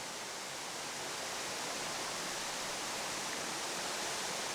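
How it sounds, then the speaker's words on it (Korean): Waterfall in Naeyeonsan's Yongchu valley near Pohang, Korea, a steady broadband rush of falling water, constant and even throughout with no other sounds. "12개의 폭포를 품은 절경으로 유명하다."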